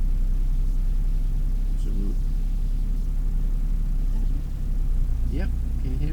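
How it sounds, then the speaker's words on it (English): A learner driver's car engine holds a steady, slightly raised hum as the accelerator is pressed to find the clutch bite point. The low rumble runs continuously under a voice giving instructions. "Now the key is put a little bit of boost on the accelerator."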